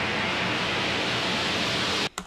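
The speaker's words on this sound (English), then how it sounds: "white noise rising up" A synthetic white-noise riser effect from a dance remix, a dense steady hiss sustained for about two seconds that cuts off abruptly near the end.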